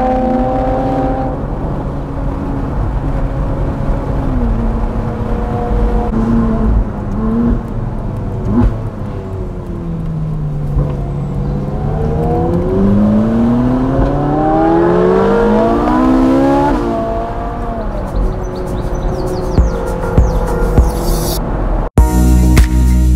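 Ferrari 355 fitted with a Capristo exhaust accelerating hard, its loud, high engine note climbing through rising sweeps and gear changes, ending with a sharp bang-like cutoff.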